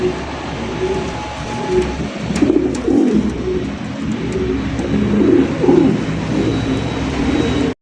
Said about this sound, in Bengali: এইখানে রয়েছে একজন নাচনেওয়ালি কবুতর মাশাআল্লাহ, একদম রেয়ার কালেকশন ভাই।